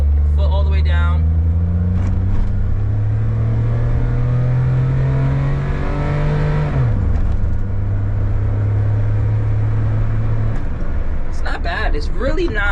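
Daihatsu Mira automatic kei car engine revved hard under full throttle, a loud steady drone rising in pitch for several seconds, then dropping sharply as it shifts and holding lower, with a voice briefly at the start and end.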